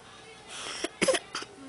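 A few short, faint coughs in a home with a newborn baby, coming in quick uneven bursts over soft background room noise, one slightly louder than the rest.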